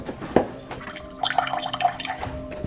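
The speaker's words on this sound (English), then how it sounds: "This is our cold water pressure in the kitchen." Cold tap water running from a kitchen faucet in a home, a thin, weak stream with drippy splashing, starting with a sharp knock and continuing unevenly and close by.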